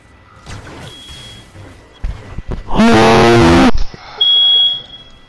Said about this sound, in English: That's Baron's fire alarm.